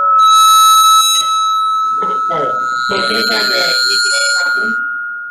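A computer phone rings during a public commission meeting, its bright repeated electronic tone sounding close and loud at the start, then continuing more quietly under someone speaking.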